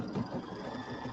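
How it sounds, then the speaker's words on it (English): An embroidery machine stitches a leaf design, giving a soft, steady mechanical whir with a faint rhythmic pulse, quiet and close, with no voices. "it's going to sew this leaf over again"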